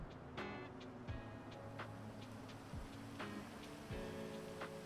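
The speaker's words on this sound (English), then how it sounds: "Oh, and it's raining again." Rain falls in a roleplay video game, a steady soft hiss of drops patters on surfaces, quiet and continuous, with a few scattered thuds and tones and no talking.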